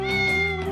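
A cat gives one clear, close meow, loud and drawn out, alone with no other sounds.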